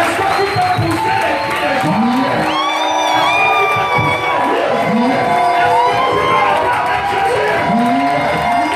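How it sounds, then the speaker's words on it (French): A church congregation at a Thursday worship service cheers and shouts loudly, a dense sustained crowd roar with whoops and rising cries, a voice calling out over it. "Est-ce qu'on peut acclamer pour le guérison des gens?"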